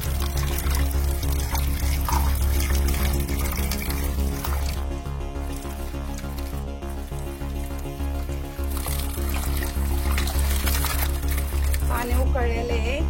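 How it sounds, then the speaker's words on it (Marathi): Potato wafers are rinsed under a steadily running kitchen tap, a continuous loud gush of water that goes on for the whole stretch. "दोन 3 पाण्याने धुवायचं चांगलं।"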